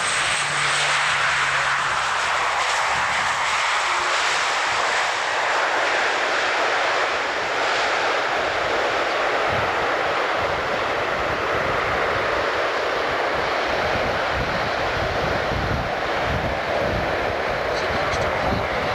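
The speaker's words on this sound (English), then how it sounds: "Bringing the aircraft to a halt." Large military transport aircraft at the 1993 Fairford air show making a tactical landing and braking to a halt, a loud continuous engine roar and rushing wind filling the whole stretch, steady and unbroken, with a commentator talking over it.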